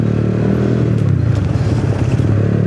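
A Honda Click 186cc motorcycle engine runs steadily and close by, with a constant low rumble and faint rattling, clattering noises from near the cylinder head mixed in throughout.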